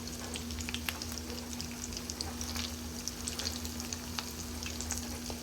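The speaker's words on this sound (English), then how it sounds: "that's been cooking in that hot grease" Tuna patties frying in hot grease in a pan, a steady close crackling sizzle with scattered pops that carries on evenly throughout, with a low constant hum beneath it and no talking.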